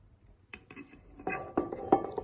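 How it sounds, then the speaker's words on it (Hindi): Leftover oil being poured into a container of red chilli pickle, with faint clinks of glass and utensils that grow louder toward the end, over a quiet kitchen background. "अब ये जो तेल हमारे पास बच रहा है इसको हम इसी कंटेनर में डाल"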